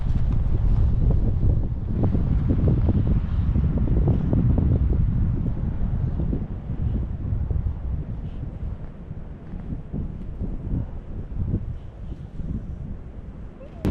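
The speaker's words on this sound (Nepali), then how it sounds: "यस्तोसम्म चलेछ कि हावा यहाँ गोप्रो ढलाइदियो" Strong wind sweeps a snowy mountain ridge, buffeting the microphone with a loud, continuous low roar that surges in gusts and eases slightly toward the end.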